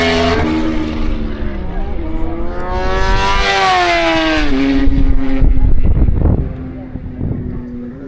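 Racing motorcycles, a BMW among them, scream past on a track during the last lap of a race, engines rising and falling in pitch as they approach and pass, loud and close, with wind noise and a voice speaking over them.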